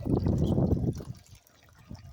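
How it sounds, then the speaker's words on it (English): Water trickles and splashes in a backyard bird fountain, a close, steady liquid burble that fades down after about a second, then returns faintly. "There's a fountain for the birds."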